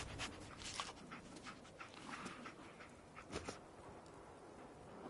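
Dogmeat, the dog companion in the Fallout 4 game, pants in quick rhythmic breaths with faint whimpers, fairly quiet, over a low background bed.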